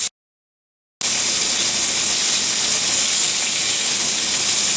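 Lamb chops frying on a cast iron grill pan give off a loud, steady hiss and sizzle that carries on unbroken after a brief silence at the start.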